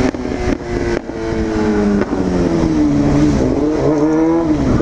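Honda Hornet motorcycle with a full exhaust system, remap, new plugs and filter, riding past at speed, a loud continuous engine drone rising and falling in pitch as it revs through the gears, no speech.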